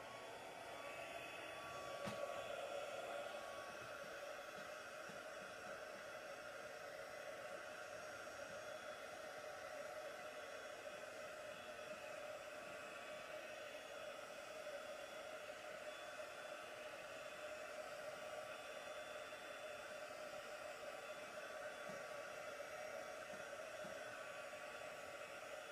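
A hair dryer blows steadily on glass to dry it in a crafting setup with markers and heat embossing powder, a constant close whooshing hum that continues unbroken for the whole stretch.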